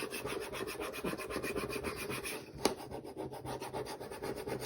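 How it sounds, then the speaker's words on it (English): A plastic razor scraper rubs low-tack transfer tape onto a wooden fall wreath sign, giving a steady, close scraping and rubbing sound in rapid back-and-forth strokes, with one sharper tap midway. "I'm going to go back over it with my plastic razor"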